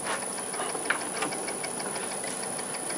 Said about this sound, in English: We're going to use the 1/2 inch bowl gouge.